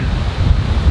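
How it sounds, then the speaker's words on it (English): Strong wind buffeting a microphone outdoors in sideways-blowing rain, a loud low rumbling roar with gusty thumps, no voices in this brief moment. "It's pretty freaking windy out here"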